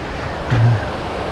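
Pambar River flowing through the wildlife hills of Chinnar, running fuller than usual: a steady broadband rush of water heard from the bank, continuous and fairly loud with no speech.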